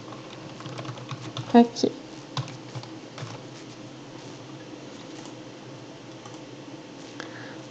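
A computer keyboard is typed on during a lesson with sparse, quiet, irregular keystrokes and a couple of sharper clicks, while a voice speaks briefly.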